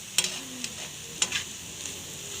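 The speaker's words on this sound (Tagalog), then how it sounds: "haluin mo na ng haluin, tapos lakasan mo ng apoy." A spatula stirs bitter gourd sautéed with plenty of tomato and malunggay leaves in a frying pan over high heat. It gives a few sharp scrapes and clacks over a soft, steady sizzle.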